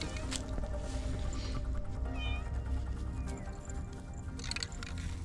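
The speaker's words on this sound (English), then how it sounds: "Got a cat on the set." A cat gives a short meow against steady, loud background noise outdoors.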